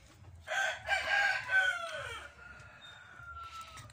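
A rooster crows loudly and close by in a farm pen, one long drawn-out call with a falling end, while other fowl are faintly audible around it.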